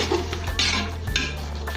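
Mutton biryani masala sautés in a pan while a spoon scrapes and clinks against the metal in a few brief strokes, heard close but fairly quiet, with no talking.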